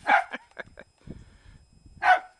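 A dog at a gate lets out two sharp barks, one at the start and one near the end, close and loud, with softer scuffling and low sounds in between.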